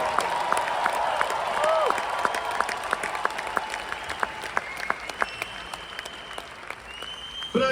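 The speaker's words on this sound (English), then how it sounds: "Clap your hands and shout if you actually believe this is possible." A live audience claps steadily with scattered shouts and cheers, sustained applause filling the room throughout and thinning slightly toward the end.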